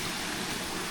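Water from a mountain stream falls steadily onto a rural farm property with falls in Calauag, a constant rushing, splashing wash heard up close with no voices.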